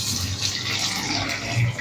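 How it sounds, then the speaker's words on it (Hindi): Water pours steadily into a hot pan of browned Lahori chicken and chickpea curry, a continuous gushing hiss with faint sizzling, close by and without talk. "थोड़ा सा पानी ऐड करेंगे"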